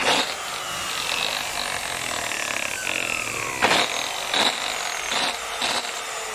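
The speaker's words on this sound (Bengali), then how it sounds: "রাউটার মেশিনের বেয়ারিং গুলো নষ্ট হয়ে গেছে। এর বেয়ারিং নষ্ট হলে কেমন আওয়াজ হয় চলুন দেখি।" A router machine with worn-out, damaged bearings runs steadily at a close distance, giving a continuous harsh whine with faint rattling and several short bursts of louder grinding noise toward the end.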